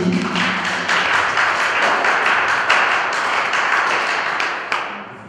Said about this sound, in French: On acclame très fort pour lui.